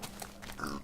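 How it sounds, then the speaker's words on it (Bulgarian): A pig in the Minecraft video game grunting in short, low, muffled bursts under faint background noise, with no voice. "да убием малко прасенца за храна"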